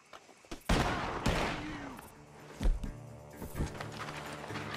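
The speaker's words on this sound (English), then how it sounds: "Gunshots are coming from that barn!" Gunfire rings out from a barn in the video game Red Dead Redemption 2, several loud cracking shots in quick succession over a dense, continuous backdrop of game ambience.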